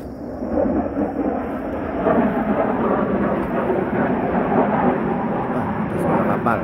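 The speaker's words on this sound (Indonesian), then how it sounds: "Wah, itu suara kapal. Kapal pesawat." An airplane passes overhead above a grapevine garden, a loud, sustained, broadband roar that swells slightly and holds steady throughout.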